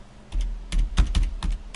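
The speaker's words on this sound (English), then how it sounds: "So if I type in grocery" Keys clatter on a computer keyboard in short, quick bursts of typing, close and clear with no voices over them.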